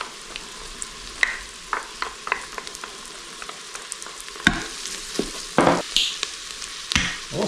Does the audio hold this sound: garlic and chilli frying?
yes